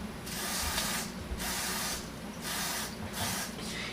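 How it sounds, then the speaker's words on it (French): Contact cleaner sprayed from an aerosol can into a Ford car radio, heard as close hissing bursts, four or five in a row with brief pauses between them. "je vais prendre du contact cleaner puis le mettre comme ça va le nettoyer partout"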